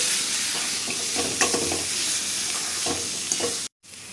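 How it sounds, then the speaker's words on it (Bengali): Carrot halwa is stirred in a pan while it sizzles, spoon scrapes repeating over a steady hiss close up, then a brief cut before the frying sound resumes. "তো এগুলো দিয়ে আমি আরও কিছুক্ষণ এটা ভালো করে নাড়িয়ে নেবো যাতে মিশে যায়"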